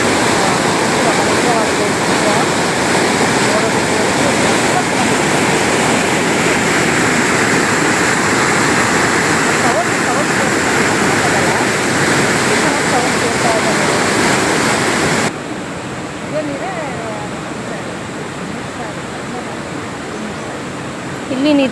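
Water rushes forcefully through the outlets of Gajanur Dam, a loud, steady broadband roar that runs unbroken for most of the stretch before dropping abruptly to a softer flow.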